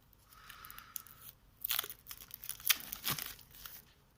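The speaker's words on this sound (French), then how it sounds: "On a un deuxième paquet ici. Donc celui-ci, je vais ouvrir comme ça." A second pack of board game cards is opened close up, with crinkling plastic wrap, a faint rustle at first and then louder bursts of tearing and crumpling.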